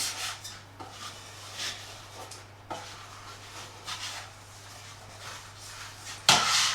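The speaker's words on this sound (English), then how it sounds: "use a little bit of butter on some kitchen tissue, and it just helps to sort of rub it in nicely" Kitchen tissue with butter is rubbed over a baking dish before making a cardamom tea cake, giving soft, close swishing strokes in separate bursts and a sharper scrape near the end, with no voices.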